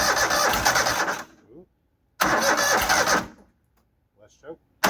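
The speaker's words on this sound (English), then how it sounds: "And we're just going to turn it over, see if anything happens." An engine on a farm auction machine is cranked over to start, giving two bursts of rapid, chugging cranking that each stop abruptly, followed by brief quiet sounds and a third burst beginning at the end.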